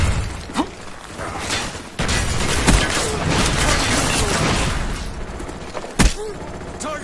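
Frag grenade blast in Black Ops 1 set among continuous gunfire and clatter of a firefight, with a sharp loud burst near the end standing out from the dense battle noise.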